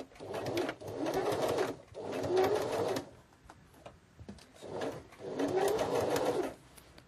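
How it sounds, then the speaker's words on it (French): A sewing machine stitching a zipper with a zipper foot, running in several whirring bursts of one to two seconds separated by short pauses, close and clear. "Je commence par piquer par le petit côté, le côté en fait où il y a juste l'agrafe et non le curseur."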